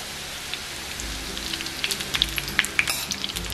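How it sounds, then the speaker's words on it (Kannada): Laddu mixture frying in ghee and stirred until golden, with a soft steady sizzle and, in the second half, louder irregular scraping and crackling pops from close by. "ಇದೇ ತರ ತಿರುಗಿಸ್ತಾ ಹೊಂಬಣ್ಣ ಬರೋವರೆಗೂ ಮೀಡಿಯಂ ಅಲ್ಲಿ ಇದನ್ನ ಕರ್ಕೋಣ"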